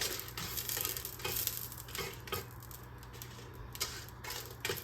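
Two chopped onions roasting in a pot for ground beef stew, a soft steady sizzle with occasional stirring scrapes and clicks, close and fairly quiet.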